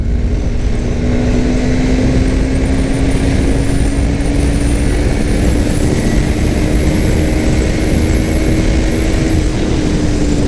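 Loud, constant roaring wind rush on a 2021 KTM Duke 390 BS6 motorcycle ridden hard at high speed in fifth gear, with a steady engine drone underneath and no talking.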